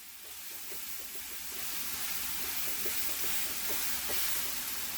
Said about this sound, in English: Push it down into the pan. You want to get a nice, even sear.